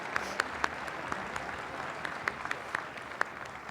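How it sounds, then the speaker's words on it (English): An audience at a city's State of the City address applauds award winners, a moderately loud, even patter of many hands with a few sharper individual claps standing out, steady for several seconds without speech. "Let's congratulate our winners with a round of applause."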